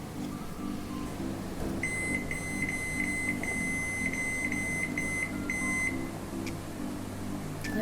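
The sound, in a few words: microwave oven beeping while cooking chicken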